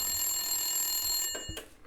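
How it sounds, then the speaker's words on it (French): A telephone bell rings in a steady, bright metallic trill for over a second, then cuts off, followed by a brief clatter. "vous êtes impressionné par un téléphone qui sonne"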